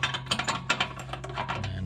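Wrench tightening a replacement heating element into an RV water heater, a run of quick close ratcheting clicks and metallic ticks over a steady low hum.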